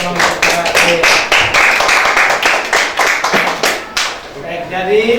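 Classroom of students claps after a presentation, a close, loud run of sharp, fairly rhythmic hand claps that thins toward the end, with a voice speaking briefly near the close.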